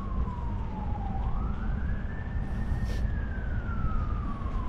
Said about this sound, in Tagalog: Yun, nagmamadali yung ambulansya.